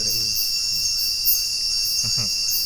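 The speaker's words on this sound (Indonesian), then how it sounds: "jangkrik." Crickets chirp at night in a forest with a steady, high, continuous trill that runs through the whole moment, while a voice speaks faintly underneath at the start and near the end.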